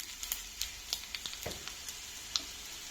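Dal ingredients with green chillies and chilli powder frying in a pan for raw-mango dal, a steady hiss broken by scattered sharp crackles and pops, close and fairly quiet, no talking.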